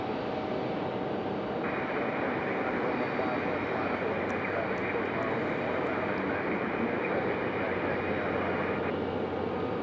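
Boeing 777 taxiing at Raleigh Durham International Airport, a steady loud broadband jet engine roar with constant wind-like rumble, continuous and unchanging throughout the stretch.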